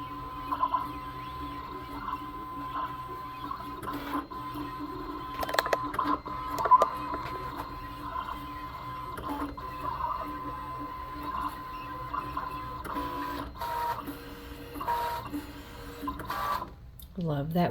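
Vinyl cutter slicing puff HTV layered over Siser StripFlock Pro, a steady mechanical whir with quick stuttering pulses and small clicks as the carriage moves, heard close by under a faint background hum, ending in a brief slide.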